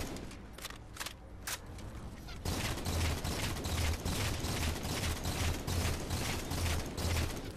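Rapid sustained gunfire in Halo 4 on Legendary difficulty, fired at a tough enemy from long range. After a couple of quiet seconds with faint clicks, it becomes a loud, continuous stream of shots that runs to the end, with no talking.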